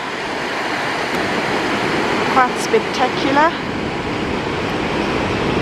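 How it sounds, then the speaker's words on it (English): Steady broadband roar of the Augrabies Waterfall in South Africa, loud and continuous throughout, with a voice speaking briefly over it near the middle. "This is the Augrabies Waterfall."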